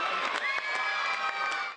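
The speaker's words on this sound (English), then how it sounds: "Guinness poured over the penalty, to the delight of the healthy Iffley Road crowd" A healthy rugby crowd at Iffley Road cheers loudly as Guinness slots a penalty kick in an Oxford University versus Queensland University match, a steady roar of voices with sharp claps and whoops, briefly dipping at the very end.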